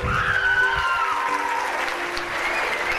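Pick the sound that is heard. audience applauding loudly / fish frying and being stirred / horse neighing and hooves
audience applauding loudly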